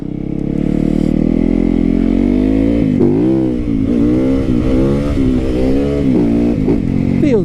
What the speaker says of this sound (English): Busting some wheelies out here. Ripping that throttle, baby.